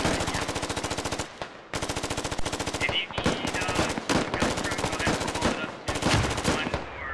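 Shotguns firing during a squad battle in the MARS video game, a loud run of rapid, closely spaced shots in several bursts with brief pauses between, close and sharp.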